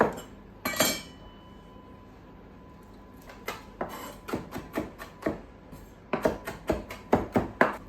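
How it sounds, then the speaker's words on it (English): A kitchen knife slices green onion on a cutting board, a few isolated chops and then a quickening run of sharp, regular cuts close by, with no speech. "So I'm gonna slice up some green onion."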